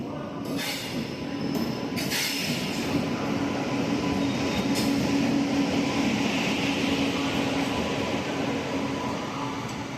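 A Janmabhoomi Express train hauled by a WAP-7 electric locomotive pulls into a station platform, a steady, fairly loud rumble of rolling coaches with faint wheel clatter and a few brief squeals, no voices.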